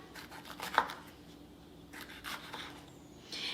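Fresh jalapenos being thinly sliced with a knife, producing faint, quiet cuts and light board taps at irregular intervals, one slightly sharper click among them.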